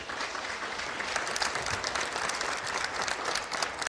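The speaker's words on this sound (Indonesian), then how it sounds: "Oke, kita berikan tepuk tangan." A studio audience at an Indonesian TV news broadcast bursts into steady, dense applause that continues for about four seconds before cutting off abruptly.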